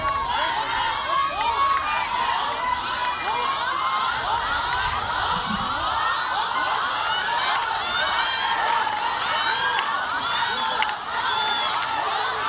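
A baseball crowd at a national championship game cheers, shouts and chatters continuously to unsettle the players, a dense, lively roar with children's voices mixed in and a commentator talking over it.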